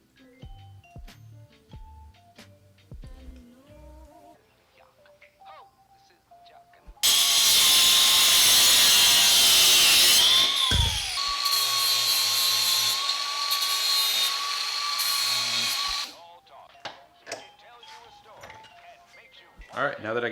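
A power tool cuts steering column pieces to length for a steering quickener on a rally Subaru, a loud, close whine lasting about nine seconds, framed by quieter handling clicks and knocks before and after.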